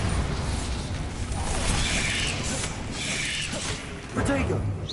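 A Bombarda blasting spell bursts amid the dense, continuous clatter of a Hogwarts Legacy battle, with heavy rumbling effects and sharp pops layered throughout.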